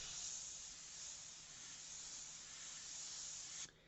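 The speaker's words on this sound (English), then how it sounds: "you never spray first time on your painting because there's always going to be something there" An airbrush sprays paint in one steady, soft hiss for several seconds, close and fairly quiet, before it abruptly cuts off near the end.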